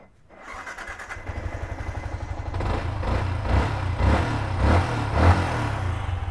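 A used Kawasaki Ninja motorcycle with about 28,000 km on it, its engine starting up and then running close by, settling into a steady idle with a few light throttle blips and no talking.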